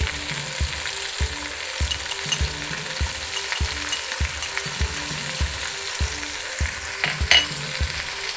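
Onions and garlic sizzle in a hot pan for a Jamaican curry chicken, with a steady bed of frying noise and regular, evenly spaced scraping strokes of a utensil, close and fairly loud.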